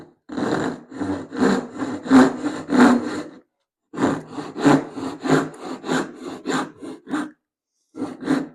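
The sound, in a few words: hand saw cutting wood, vibrating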